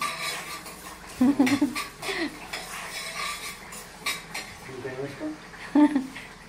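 Korramenu fish pickle stirred slowly in a pan over low flame, with occasional metallic scrapes and clinks of a spoon against the pan between quieter stretches, while someone talks over it.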